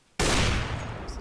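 A loud gunshot in a competitive bomb-defusal shooter game bursts in abruptly after a short quiet moment, then its harsh echo rolls off and decays over about a second.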